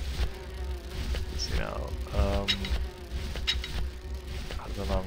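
Buzzing bees in the adventure game Grim Fandango Remastered, a thin insect drone that wavers throughout, with someone talking over it.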